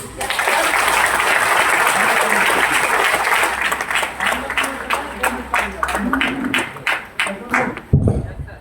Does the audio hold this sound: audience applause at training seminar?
yes